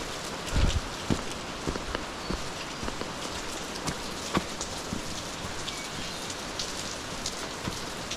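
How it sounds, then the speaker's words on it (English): Water dripping down through overhead rock at Old Man's Cave: scattered close drops patter irregularly over a soft continuous wash of background water, with a heavier splash near the start. "Just drops coming down through the rocks above."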